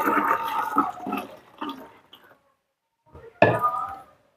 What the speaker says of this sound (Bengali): চাল ধোয়া জলটাও ছেঁকে নিলাম।